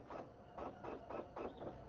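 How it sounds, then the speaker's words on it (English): An inkjet-style home printer runs in the background with repeated rhythmic passes, each swell of mechanical whirring and shuttling coming roughly every third of a second at low, steady volume, no voices present. "And there's the printer going in the background"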